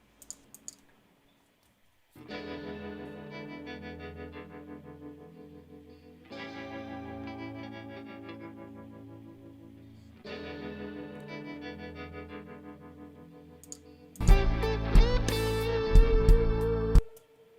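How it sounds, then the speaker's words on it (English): Electric guitar chords ring out in three long phrases with a wavering, shimmering tremolo and a wide, washy chorus and reverb tail, followed by a louder, denser burst of playing. "he's added a tremolo, and there's also a lot of chorus and reverb"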